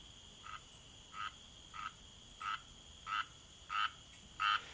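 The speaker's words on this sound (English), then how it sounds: "In the middle of the pond, a frog sat, practicing his singing." A frog croaks at a pond with six or seven short, rhythmic calls spaced about a second apart, growing slightly louder over a faint, steady background hiss.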